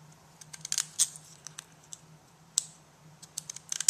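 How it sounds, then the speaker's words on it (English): Postage-edge scissors trimming paper, making a faint, quiet series of sharp crisp snips and clicks, irregularly spaced with short bursts and pauses, no voices. "I have a pair of scissors that cut a postage edge."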